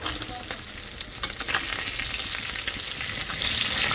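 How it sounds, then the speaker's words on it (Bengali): Fish pieces fry in hot oil in a pan, a steady, close crackling sizzle with occasional sharper pops and stirring scrapes, gradually growing denser and louder. "এখন শুধু মাছ রয়েছে বাকি অল্প অল্প করে দিয়ে ভাজুন"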